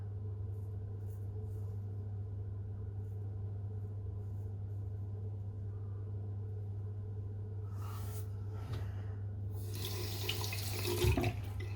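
Tap water runs steadily while a razor is rinsed under it, a continuous hiss over a low hum, with brief splashing and clinks near the end.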